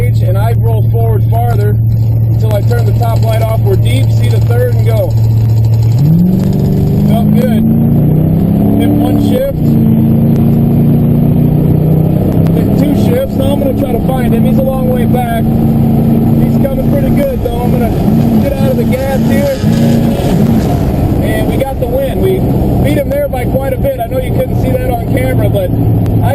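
A drag racing car launches off the line and accelerates hard down the strip, its loud engine note climbing steadily in pitch through the gears, a continuous roar heard close up from start to finish.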